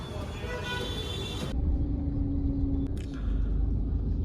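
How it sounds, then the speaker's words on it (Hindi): Jammed evening traffic crawls along VIP Road, a dense low rumble of engines with a brief horn toot and a nearby vehicle passing, mixed with voices. "लेकिन ट्रैफिक इतना जाम रहता है ना यहाँ पे"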